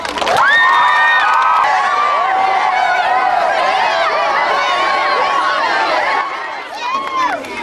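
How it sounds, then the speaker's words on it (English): A crowd of children at a school event cheers and shouts loudly, with high excited voices and whoops layered over clapping, sustained for several seconds before briefly dipping and rising again. "So let's give them a round of applause."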